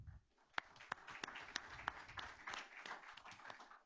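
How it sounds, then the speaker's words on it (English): A school board meeting audience applauds AP scholars, with scattered, fairly faint claps coming at an irregular rhythm and a little murmuring underneath. "Let's give our Sterling AP scholars who are with us tonight another big round of applause"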